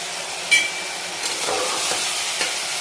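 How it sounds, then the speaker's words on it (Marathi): Mutton pieces being sautéed in a pan for rassa and stirred continuously, giving a steady close sizzle broken by a few brief scrapes and clinks. "अशा पद्धतीनं आपण ह्याला परतून घेणार आहोत आणि कंटिन्यू हलवत राहायचं ह्याला, म्हणजे खाली लागणार नाही."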